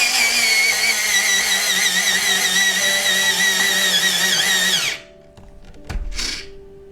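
An electric pencil sharpener grinds a Derwent pencil with a loud, close, high whine for about five seconds, then stops abruptly, followed by a brief clunk and rustle.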